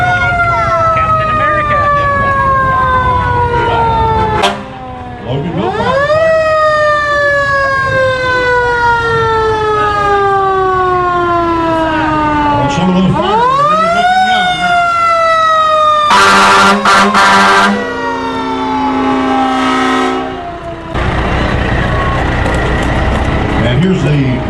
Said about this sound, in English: Got other police vehicles here today. Captain America. Loganville Fire Department.